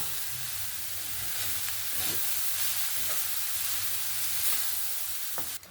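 Coconut filling with sugarcane jaggery being stirred in a pan: a continuous bright sizzle and hiss with occasional soft scrapes of the spoon, close up and moderately quiet.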